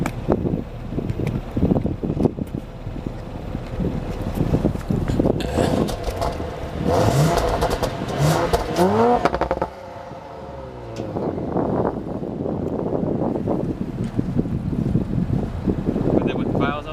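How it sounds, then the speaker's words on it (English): A 2019 Audi RS5 coupé in sport mode revs its exhaust in loud, rising bursts with engine whine, wind noise and voices talking over it. "I'm gonna give you guys the exhaust clip that you've probably been waiting for"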